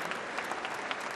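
Short burst of steady applause from a crowd at a Papa Wemba tribute in Abidjan, an even wash of clapping with occasional sharper claps near the front.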